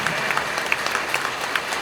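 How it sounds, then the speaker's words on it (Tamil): An audience claps in sustained applause at a stage event, a dense, even patter of many hands with a few sharper claps standing out. "அந்த உயர்ந்த ஆன்மாவுக்கு பலத்த கைத்தட்டல்"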